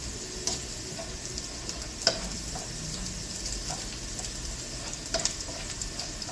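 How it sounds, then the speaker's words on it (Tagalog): Garlic fries in oil and is stirred until browned for fried garlic beans. A soft, continuous sizzle carries sporadic clicks and taps of a utensil against the pan, with no voices. "halu-haluin lang po natin yun hanggang sa mag-brown po yung bawang natin"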